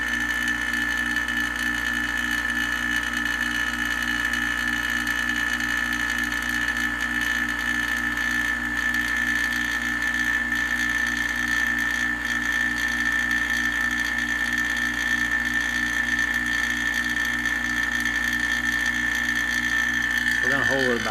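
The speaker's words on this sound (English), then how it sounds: "I've got this hooked to a vacuum pump" A Harbor Freight vacuum pump runs continuously while pulling vacuum on a car's A/C system, a steady, close mechanical drone with a constant whine and rapid rattling pulse throughout.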